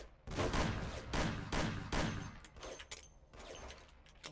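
Bursts of gunfire from a shootout in the Mafia video game mission, several loud volleys in quick succession followed by scattered shots, with no talk over them.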